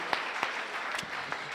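Audience at a startup competition in Minsk applauding the startups: a short burst of scattered, moderately loud claps with distinct individual hand strikes over a soft wash of clapping.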